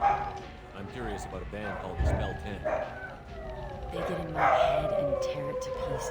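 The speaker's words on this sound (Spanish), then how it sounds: "están ladrando, están aullando los perros de los vecinos" Neighbours' dogs barking, yipping and howling in the background, with rising and falling wails under someone talking and game audio.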